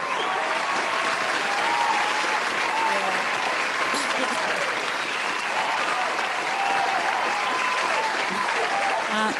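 A live jazz lounge audience gives a standing ovation after a harp performance, steady sustained applause from a crowd lasting throughout, with voices faintly mixed in.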